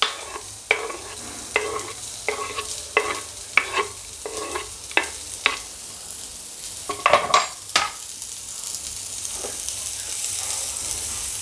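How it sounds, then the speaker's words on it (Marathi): Chopped onion goes into hot oil with cumin seeds and sizzles steadily. A utensil scrapes and taps against the pan in a regular stirring rhythm, fairly close and clear. "कांद्याला ॲड करूया."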